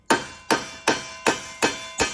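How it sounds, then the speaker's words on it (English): Six evenly spaced, sharp hammer blows on a rivet joining a handle to a copper skillet, close and loud, each strike ringing briefly with no talk. "I might even hammer my handle to the body a little bit right here if it's supported on the back side."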